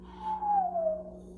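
A voice imitates the deep, low tone of an oboe, humming one soft, steady note that glides slightly downward, fairly quiet and close.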